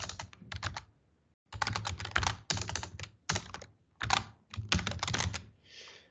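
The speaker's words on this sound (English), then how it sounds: "So I type import pandas as pd" Bursts of computer keyboard typing as Python code is entered, rapid clustered keystrokes in several runs separated by short pauses, close and fairly loud with no voices.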